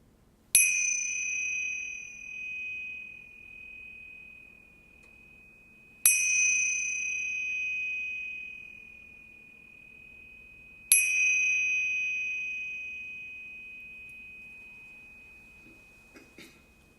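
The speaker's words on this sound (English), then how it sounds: "after you hear the third chime, you may open your eyes." A meditation chime rings three times, each clear metallic strike spaced about five seconds apart and left to fade slowly into a quiet room.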